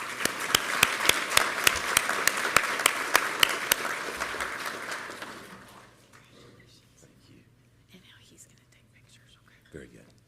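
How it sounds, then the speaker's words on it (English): An awards ceremony audience claps for a state senator in a sustained round of applause that fills the first five seconds, then fades away. Quiet murmuring follows in the hall. "If you will give Senator Jett a big round of applause, please."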